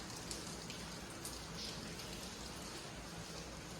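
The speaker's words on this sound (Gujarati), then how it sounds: "કાલ રાતનો વરસે વરસાદ હજી ઝીણો ઝીણો ચાલુ જ છે આખી રાત." Light, fine rain falling steadily through the night into morning, a soft continuous hiss of drizzle on surfaces outdoors with no voices.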